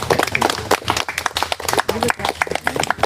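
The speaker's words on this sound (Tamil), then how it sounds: "அவங்களுக்கு ஒரு நல்ல ஒரு கரவலை எடுப்புங்க கைத்தட்டுங்க" An audience claps its hands at a talk, a burst of fairly close, uneven applause that carries on for a few seconds while a voice speaks over it.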